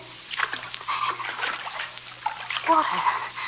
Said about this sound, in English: Basement floor covered with water.